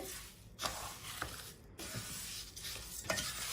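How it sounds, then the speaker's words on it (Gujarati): Sugar is stirred by hand into a lemon pickle mixture off the heat, with repeated quiet scraping and swishing strokes, a few short pauses between them, and no voices. "ખાંડ ઉમેરી અને એને મિક્સ કરી લેવાનું છે"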